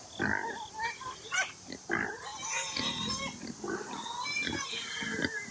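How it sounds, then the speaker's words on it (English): Pigs on a farm grunt and oink close by, with a busy, overlapping run of snorts and squeals that continues steadily throughout. "Morning, piggies."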